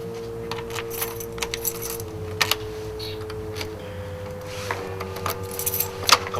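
A bunch of keys jangling and clinking close by in bursts over several seconds, with a steady low hum underneath.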